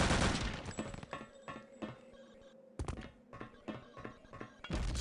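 Long-range gunfire in Return to Castle Wolfenstein, a run of sharp, close-sounding shots in quick irregular bursts with brief gaps, alone without talk.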